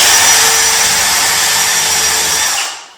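A power drill drives screws into the timber framing of a bath panel, a loud, steady whir lasting nearly three seconds before it winds down and stops.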